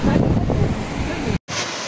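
A massive waterfall at Tongling Canyon in Guangxi, China, pours straight off a cliff wall, its spray and wind producing a loud, close, broadband roar with buffeting gusts, cut by one brief dropout before the roar resumes.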